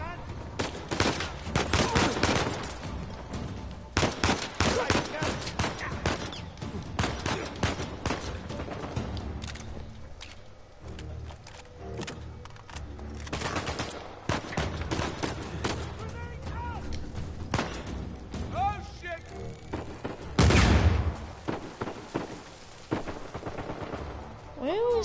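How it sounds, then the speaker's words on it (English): Rapid bursts of gunfire, single shots mixed with automatic volleys, rattle loudly and steadily through a shootout in the video game Uncharted 4, with one heavier blast near the end. "the first real shootout of the game"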